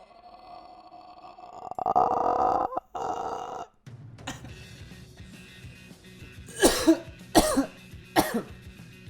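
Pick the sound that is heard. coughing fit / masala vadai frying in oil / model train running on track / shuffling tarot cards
coughing fit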